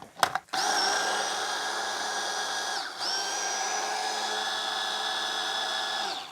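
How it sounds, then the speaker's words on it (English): A blender blitzing chimichurri sauce with olive oil whirs loudly at a steady high pitch after a couple of brief knocks as the lid goes on, dips for a moment midway, then spins on evenly close by. "So I'm starting with 100 millilitres. We're going to blitz it."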